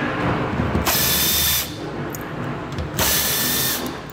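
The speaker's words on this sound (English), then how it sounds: "we're going to use a 7mm socket to remove those" A power tool fitted with a 7mm socket backs screws out of a vehicle fender, whirring loudly in two bursts of under a second each, separated by a brief lull.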